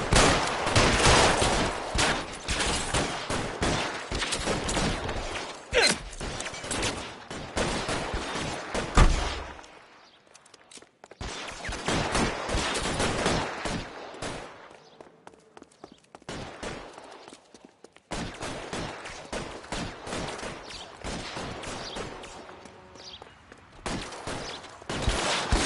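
Loud, dense bursts of gunfire fill L.A. Noire, with rapid shots and volleys broken by brief pauses and sparse single cracks, plus scattered footsteps.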